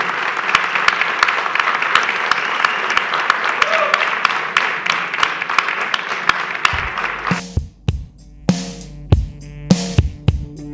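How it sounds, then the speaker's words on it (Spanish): A live audience applauds a panel with a sustained burst of clapping and scattered sharp claps, while a voice speaks over it; the clapping thins out and gives way to music in the last few seconds. "Vamos a brindarle un gran aplauso."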